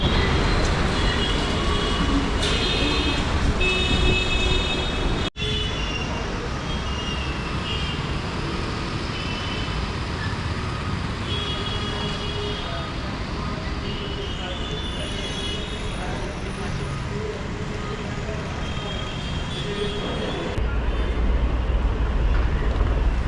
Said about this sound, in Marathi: आता आहे ना आम्ही दांडोर स्टेशनला उतरलो आहे.